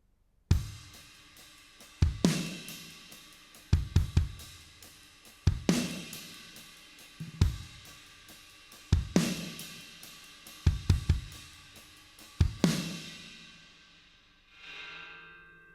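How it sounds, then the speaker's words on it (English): An acoustic drum kit plays the simple, steady intro groove of a worship song, with a crash or cymbal accent roughly every one and a half seconds. A final ringing cymbal closes it out. "Now we translate that over to the kit and it sounds like this"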